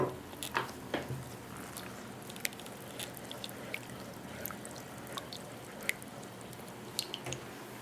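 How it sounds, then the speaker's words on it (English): Boiling water is poured into jello powder and stirred, giving a soft continuous liquid wash with light clinks and drips of the spoon scattered throughout, close and fairly quiet. "you're going to need to pour 1 cup of boiling water into the jello and stir it until there's no pieces left"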